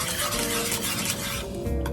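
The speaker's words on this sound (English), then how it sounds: "And then you turn the heat back on medium-low heat, stirring consistently." Custard stirred steadily in a pot on the stove over medium-low heat, a soft continuous scraping and swishing of spoon against metal, close and even throughout with no talking.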